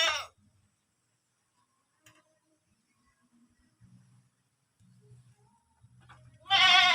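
Goats bleat loudly at the start and again at the end near a goat pen in the countryside, with quieter grunts and low murmurs in between.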